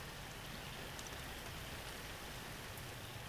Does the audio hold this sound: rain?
yes